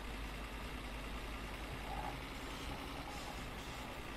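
A Hayosiko car engine in My Summer Car droning steadily at full throttle, a constant, fairly quiet mechanical hum with no pauses.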